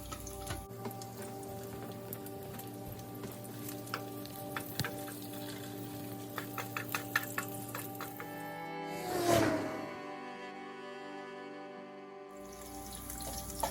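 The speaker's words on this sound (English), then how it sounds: "Once the oil is ready, you add garlic to it." Garlic sautéing in hot oil for a desi-style spaghetti, a steady close sizzle with crackling pops throughout, swelling briefly into a louder burst of spitting as it is stirred, then settling back.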